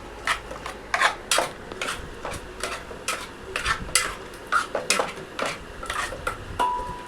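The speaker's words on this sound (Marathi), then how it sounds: "अशी ढवून घ्यायची आहे." A spoon scrapes and stirs tomato and chicken puree in a metal pot, producing a close series of rhythmic rubbing and clinking strokes at a steady pace, with no speech over them.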